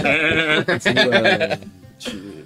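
A human voice imitates a sheep, giving a loud, drawn-out bleat with a wavering, nasal tone followed by a short second bleat, close to the microphone.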